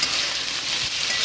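Hilsa fish seasoned with salt and turmeric fries in a pan with a dense, steady sizzle, close and continuous for a brief moment.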